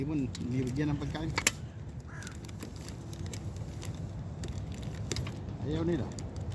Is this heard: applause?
no